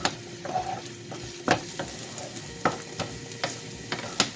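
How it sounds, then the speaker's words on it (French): Chopped onions frying in hot oil, a soft continuous sizzle broken by clinks and scrapes of stirring, with no voices. "On les fait revenir dans l'huile chaude."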